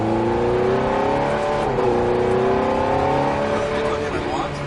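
Ferrari F430 accelerating on a racetrack out of a hairpin, a loud steady engine drone rising in pitch from inside the car, with an instructor talking over it.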